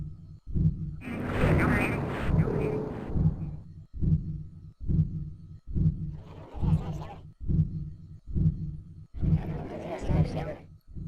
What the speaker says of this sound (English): We're given a lot of distorted voices and duck quacking